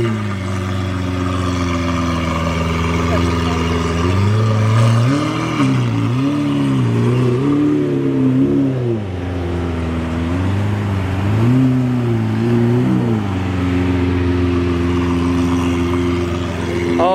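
Loud supercar engines, including Lamborghini Aventadors, rev repeatedly at a car meet, pitch rising and falling in several surges, with a steady idle rumble between the revs and no talking.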